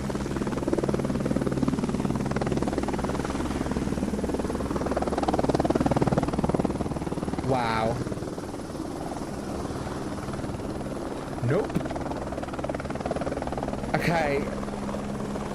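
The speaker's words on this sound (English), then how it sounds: "I found a helicopter." A helicopter in the video game Only Up whirs steadily with a constant rotor hum throughout, while a player makes brief remarks over it.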